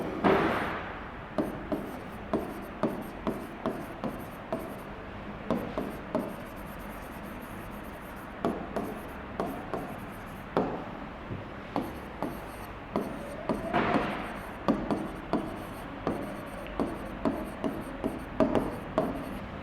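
Chalk or marker strokes on a classroom board as a teacher writes sentences during an English grammar lesson, a steady run of short scratchy taps and rubs at close range with no talking.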